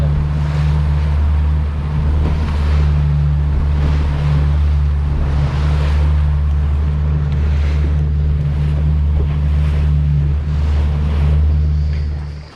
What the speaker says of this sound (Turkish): iri dalgalar var şu anda